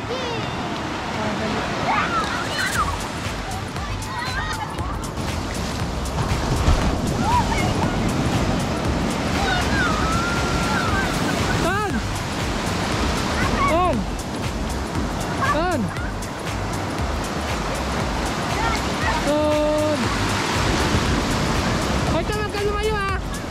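Sea waves washing onto a beach where children are heading in to swim, a steady broadband surf roar under continuous talk and voices, with some wind noise and a dog barking briefly.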